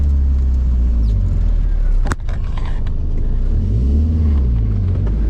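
A Nissan 240SX drift car with a welded differential drives close by, its loud engine droning steadily with a brief sharp dip partway through, then pulling on with a changing pitch.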